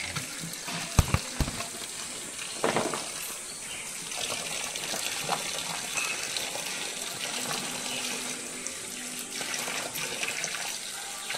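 Water runs from a tap in a village setting, a steady hissing flow with a few sharp knocks near the start.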